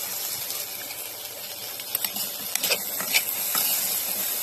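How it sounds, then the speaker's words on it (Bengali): Diced potatoes fry in a pan with ginger-garlic paste for a samosa filling, giving a steady close sizzle and hiss broken by a few light stirring scrapes and clicks. "তো আলুগুলো দেওয়ার পর আমি একটু ভালোভাবে ভেজে নেব"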